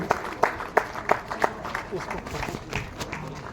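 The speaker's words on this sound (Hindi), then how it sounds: "जोरदार तालियां होनी चाहिए आप सबकी तरफ से" At a lecture on tribal historiography, the audience claps to welcome the speaker, Ranendra Kumar. The first part has distinct rhythmic claps close by, and these thin into scattered claps and background talk.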